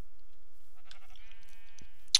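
A sheep in Minecraft gives one wavering, nasal bleat after a stretch of near silence, close and clear, followed by a brief click.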